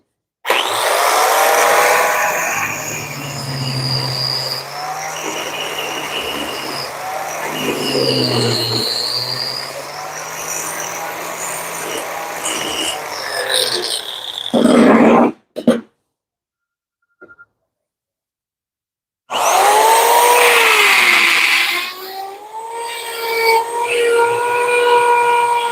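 A hacksaw cuts a Volkswagen Worker gear shift shaft into 24 mm sections with steady, continuous rasping strokes. The sawing stops abruptly for a few seconds of near silence before it resumes.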